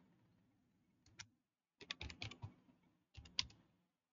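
Someone types on a computer keyboard in short, quiet bursts of rapid key clicks separated by pauses, close and alone.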